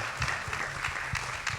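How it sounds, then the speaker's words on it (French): A seated audience at a French author talk claps briefly, a moderate, continuous patter of hands with no voices over it. "j'aimerais qu'on applaudisse bien fort David Fauquembert pour cet échange."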